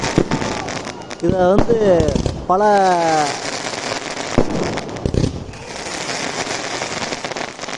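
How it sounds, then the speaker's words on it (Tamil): Fireworks at a display crackle and pop repeatedly while a person talks over them in Tamil, with sharp bangs scattered among continuous sizzling bursts. "பயங்கரமாக வெடித்து கொண்டிருக்காங்க"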